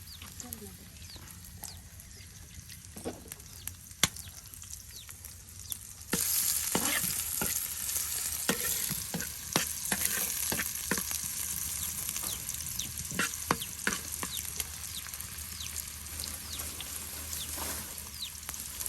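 Leafy greens fry in oil in a pan during rural home cooking, a soft steady sizzle with scattered clicks and stirring scrapes that grows brighter and louder partway through, heard close by.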